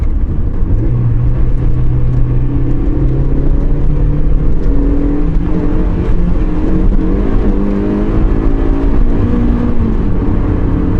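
Toyota AW11 MR2 on WAT suspension accelerating: a continuous loud engine drone climbs steadily in pitch through the gears, sustained and close with no talk.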